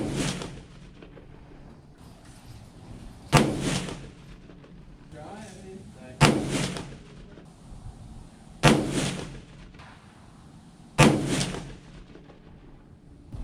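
Rifle shots fired at a range during load development with new, never-fired brass, heard as four loud, evenly spaced cracks a couple of seconds apart, each decaying into a short echo, with quiet background between shots.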